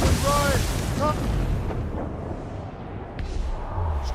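Naval cannon fire in Assassin's Creed Rogue: a deep boom rolls out and fades, then a sharp later crack, with shouted voices over the opening part.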